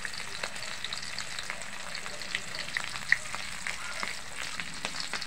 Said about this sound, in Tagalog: I-close up mo yung pritong tuyo. Hanggat sa maluto.